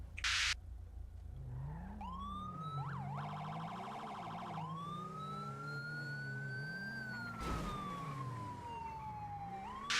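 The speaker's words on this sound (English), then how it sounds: "We will now demonstrate a pit maneuver now." A police car in a video game performs a pit maneuver, its wailing siren sweeping up and down and switching to a rapid yelp, over engine drone and a few sharp impact bursts.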